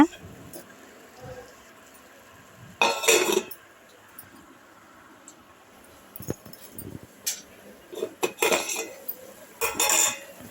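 Metallic clanks and clinks as a cooking pot of dry fish and eggplant curry is covered with a metal plate, a few sharp bursts of clattering close by, with quieter shuffling between them.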